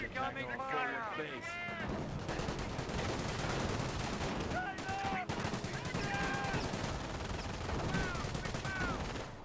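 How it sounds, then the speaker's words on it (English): Dense gunfire and machine-gun bursts from the World War II strategy game Company of Heroes, loud and continuous with shouted voices layered over the battle din. "We have a lot of incoming fire."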